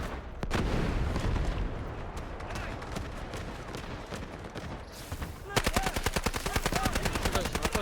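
Gunfire in the video game Delta Force: dense, loud overlapping shots give way to a rapid, evenly spaced automatic burst that keeps hammering to the end.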